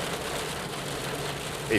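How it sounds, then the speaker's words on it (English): Dense, steady rain hissing on surfaces, loud and unbroken, with a faint brief tonal sound at the end. "raining very heavily."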